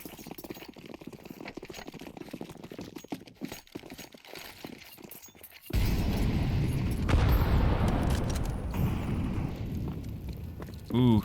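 A grenade detonates during a Counter-Strike match on the Train map, a sudden loud boom that gives way to a sustained rumbling roar with scattered game noises, following several seconds of quieter crackling activity.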